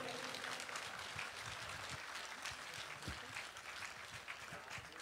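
Audience applause at the opening concert of an international festival of author's song and poetry, a steady, fairly faint wash of clapping held for several seconds at a distance.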